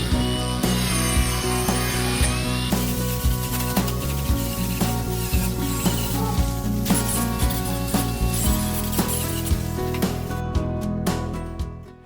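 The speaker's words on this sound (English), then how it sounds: "I'm using an angle grinder with a carbide shaping wheel to get rid of those rough chainsaw marks and just refine the surface of the sculpture" An angle grinder fitted with a carbide shaping wheel smooths rough chainsaw marks off a life-sized wooden swan sculpture: a loud, continuous grinding roar with rasping bursts throughout, cutting out near the end.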